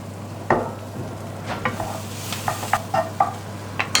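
Onions frying in a pan on a gas hob, a soft steady sizzle with intermittent louder clatters and scrapes of stirring, close by, no talking.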